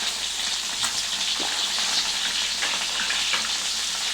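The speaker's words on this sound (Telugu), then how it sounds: "ఇవన్నీ ఇట్లా ఒక్కొక్కటి కొన్ని వేయించుకోవాలండి." Ingredients for an egg mustard pickle fry in a pan with a steady, dense sizzle and crackle, close and continuous throughout, with faint stirring underneath and no voices.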